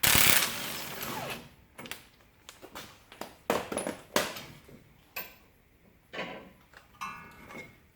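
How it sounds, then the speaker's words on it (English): Stubborn brake bolts on a Dodge Dakota being worked loose with a big bar: scattered metallic clicks, clanks and ratcheting knocks come in irregular bursts with short quiet gaps, close by and with no talking. "We've got a couple stubborn bolts, so I will have to see if I can encourage them to come loose with this big bar."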